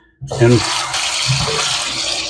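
Tap water runs steadily into a sink to rinse lime water off a batch of soaked corn for hominy, starting abruptly after a brief silence and continuing as a loud, close, even splashing rush, with a voice speaking briefly at the start.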